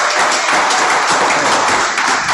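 An audience at a local comedy show applauds, a loud, dense wash of clapping that holds steady for the whole stretch.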